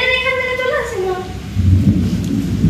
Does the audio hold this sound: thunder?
yes